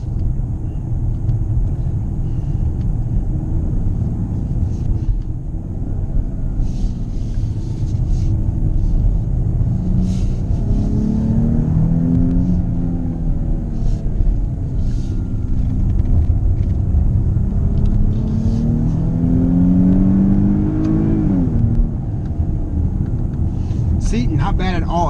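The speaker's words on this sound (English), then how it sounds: "It comes out of corners pretty hard." A 2018 Dodge Charger GT AWD engine rises and falls in pitch through two strong acceleration pulls out of corners, a steady low rumble underneath, recorded from inside the vehicle.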